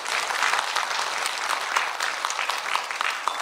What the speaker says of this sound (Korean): 여러분 다시 한번 큰 박수 보내주시면 고맙겠습니다